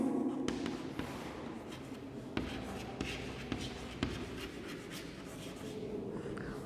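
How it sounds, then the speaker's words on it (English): Marker or chalk writing on a board during a home chemistry lesson, a steady scratchy scrawl with short taps and strokes spread across the stretch, fairly close and moderately quiet with no talking. "First of all, I will write the example."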